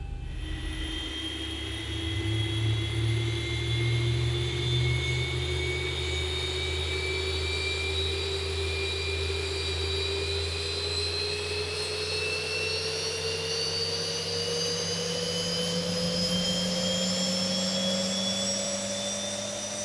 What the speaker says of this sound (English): Okay, engine number 2 coming to life.